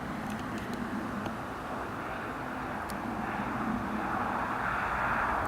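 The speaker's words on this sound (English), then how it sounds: "Right, Delta Airbus A350." A Delta Airbus A350 jet passing near Newcastle Airport gives a faint, distant, steady engine rumble that swells slightly toward the end, with no talking.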